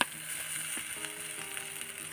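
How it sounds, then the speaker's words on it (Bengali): Garlic and ginger paste hits browned onions in a pan for restaurant-style egg fried rice, giving a soft, steady close-up sizzle and hiss over about two seconds, with no talk. "রসুন বাটা, আদা বাটা দিয়ে দিচ্ছি,"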